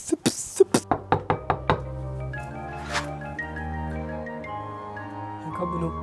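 Several sharp knocks on a front door in quick succession, loud and close, followed by quieter indoor ambience with a faint musical tone.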